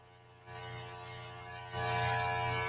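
A soft, steady airbrush hiss sprays makeup in short bursts, swelling twice, over a faint mechanical hum.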